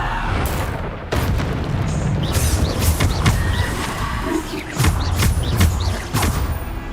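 Bombarda explosion spells from Hogwarts Legacy burst repeatedly in a loud, dense battle mix, with heavy booms and thuds recurring about every second over constant rumbling.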